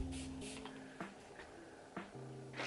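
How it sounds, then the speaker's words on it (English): A reusable spray bottle mists water onto short hair in several quick, soft bursts, close and quiet, with light handling noise between sprays. "So keep spraying it until it's pretty wet."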